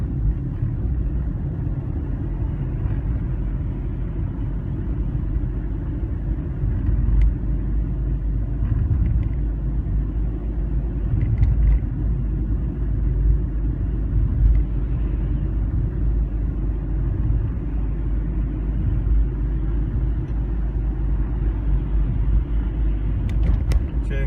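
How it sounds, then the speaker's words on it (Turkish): Steady low road rumble and engine drone from inside a Hyundai i20 cruising along a road, continuous and fairly loud with no talking. "biraz yolun sesini dinleyin dedim"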